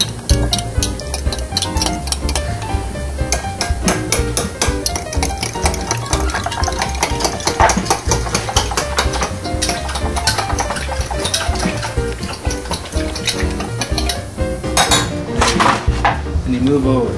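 A metal fork whisking eggs in a bowl for a stovetop egg dish, rapid continuous clinking and scraping throughout, loud and close, with faint kitchen background noise.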